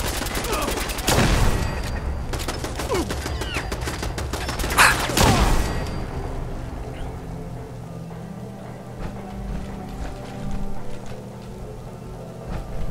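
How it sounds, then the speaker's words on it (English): Automatic turret in Fallout 4 firing explosive rounds, heard as a dense burst of gunfire and blasts in the opening seconds, with another loud volley near the middle, then the fire dies away into quieter game ambience. "You go get shot by the turret firing explosive bullets."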